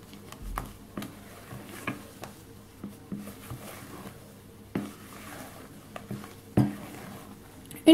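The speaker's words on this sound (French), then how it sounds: "Et on va mélanger le tout délicatement." A spoon scrapes and knocks gently against a bowl while red-fruit tiramisu mixture is folded, giving soft, irregular taps and stirring sounds up close and quiet, with no talk.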